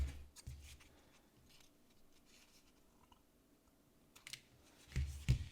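Scissors snip off excess ribbon trim on a no-sew quilted Easter egg ornament, with a few faint close cuts at the start and again near the end and quiet rustling in between.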